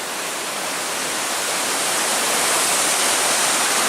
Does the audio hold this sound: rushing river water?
yes